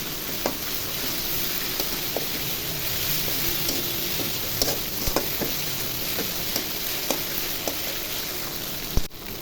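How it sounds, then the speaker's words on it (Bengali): Garlic and ginger paste sizzling steadily in hot oil in a pan, a dense continuous crackle with occasional sharper pops and faint stirring clicks, close and fairly loud with no voices. "রসুন বাটা, আদা বাটা দিয়ে ভালো করে ভেজে নিব।"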